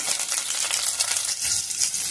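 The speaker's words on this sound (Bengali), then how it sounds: "কাঁচা লঙ্কা রসুন কটা একটু ভেজে নেব" Steady, loud sizzling of garlic and green chillies frying in hot oil, a continuous crackling hiss with no voices.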